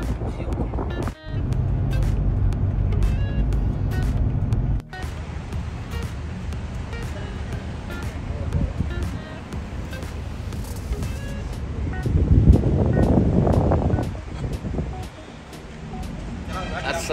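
Inside a moving car being driven to the airport, a steady low road-and-engine rumble runs throughout, with voices talking over it and a brief louder surge of road noise near the end.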